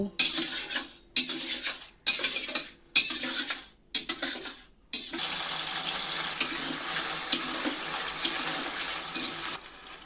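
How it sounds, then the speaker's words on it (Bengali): Mutton being stirred and sautéed in a pot for a spicy red curry: five separate bursts of scraping and clattering stirring give way to a continuous close sizzle, with no talking. "এখন আমি মাংসগুলো ভালোভাবে কষিয়ে নিব।"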